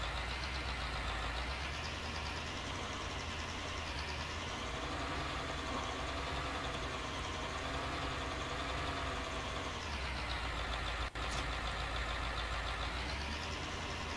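A tractor engine idles steadily in Farming Simulator 19, a continuous mid-pitched drone that holds for the whole stretch, with one brief click near the end and no talking.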